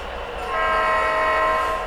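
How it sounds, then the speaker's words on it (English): A model train locomotive horn from a Blunami sound decoder sounds loud and sustained, a steady multi-tone blast for nearly two seconds. "Now when I blow the horn of 1587 and turn on my lights"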